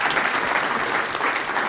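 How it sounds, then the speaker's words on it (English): A crowd at the New Venture Challenge finals applauds the coaches, a dense, steady wash of many hands clapping at once, loud and unbroken throughout. "And yes, we can clap for you."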